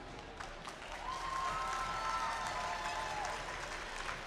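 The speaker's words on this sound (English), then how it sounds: "so give them a huge round of applause." Applause from a large seated crowd for the judges at a district competition event, a steady full roar of clapping that swells and holds, with a faint tonal sound and voices underneath.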